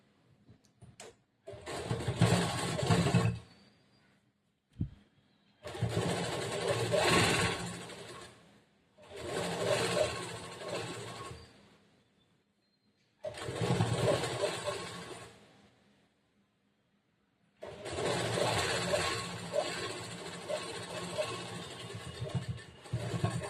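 A sewing machine stitches a blouse edge in several separate bursts of whirring, each a few seconds long, with short quiet pauses between them where the fabric is turned.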